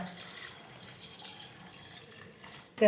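Water pours softly and steadily into a vessel over coconut until it is covered, ending with a short louder splash or knock.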